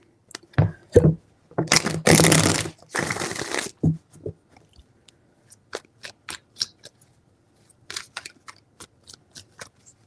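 Tarot cards shuffled by hand: two long riffling bursts, then a run of sharp separate card snaps and taps, close and crisp in a quiet room.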